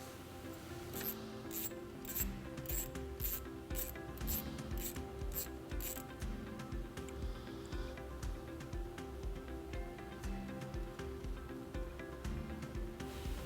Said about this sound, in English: We're going to remove this nut right here using a 10mm socket.